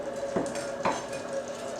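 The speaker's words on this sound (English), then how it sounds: "you'll start to hear the sizzle of the butter, which is a great American sound" Butter sizzles in a pan of cut breakfast potatoes, a soft steady frying hiss broken by a couple of stirring scrapes and light clinks of a utensil against the pan, with no talk.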